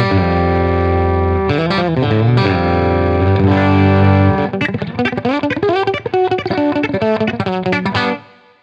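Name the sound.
compressed electric guitar, country tone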